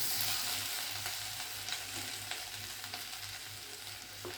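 Chopped garlic and ginger fry with cumin in a pan, giving a soft, steady sizzle with small crackles and occasional stirring taps, close but fairly quiet.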